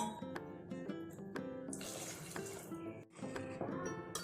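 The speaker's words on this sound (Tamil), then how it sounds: "தேவையான அளவு தண்ணி விட்டுக்கலாம்." Water poured into a pan of tomato kurma made with a ground coconut paste, a steady running splash with gurgling that rises and falls over a few seconds, close and fairly loud, with no voices.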